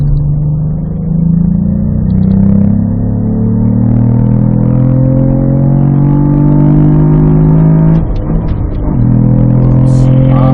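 A Cadillac V-Performance car accelerating on a track, its engine note rising steadily in pitch as the throttle opens, with a brief shift around eight seconds before it climbs again, loud and close.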